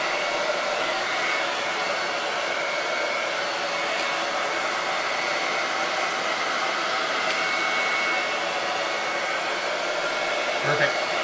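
A hair dryer blows a continuous, fairly close airflow roar as it dries chalk paste on a stencil, holding steady and uninterrupted until a small bump at the end.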